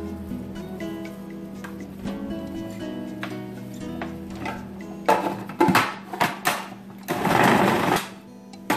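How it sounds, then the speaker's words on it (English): A food processor kneads bread dough for rosemary focaccia, with a rapid mechanical ticking hum throughout and louder bursts of rough thumping and churning toward the end, close and moderately loud. "making bread with food processor is the easiest way to"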